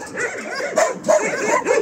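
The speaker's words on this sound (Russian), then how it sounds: "У нас много стареньких собак." Old dogs in a shelter enclosure bark and yip in a few short, close bursts with some whimpering between them.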